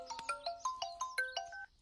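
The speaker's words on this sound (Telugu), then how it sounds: "ఇదిగో వాడే ఫోన్ చేస్తున్నాడు" A mobile phone rings with an incoming call, a bright melodic ringtone of quick repeated tones at a steady pulse that plays alone and stops abruptly.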